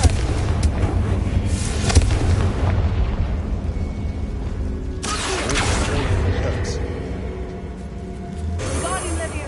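A Confringo fire spell explodes in the video game Hogwarts Legacy, giving a loud, sustained rumbling blast with crackling bursts that swells again midway, mixed with game sounds and a voice.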